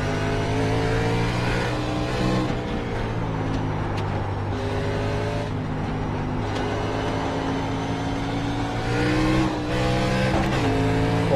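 NASCAR race car engine in iRacing at Sonoma, a steady loud whining drone that rises and falls in pitch as it accelerates and shifts, with a brief tire squeal near the end and no talk.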